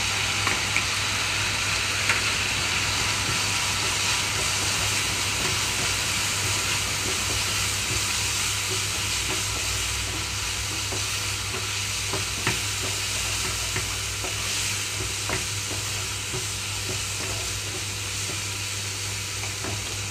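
Chana dal and coconut curry cooking with turmeric, salt and chili powder, a steady dense sizzle and hiss of frying with occasional stirring scrapes, continuous and close throughout.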